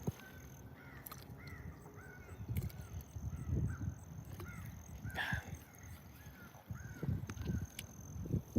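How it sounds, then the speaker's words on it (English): Crows cawing near a pond, several harsh calls scattered across a few seconds at moderate distance over low background rumble and outdoor noise. "Dad, these crows are going at it."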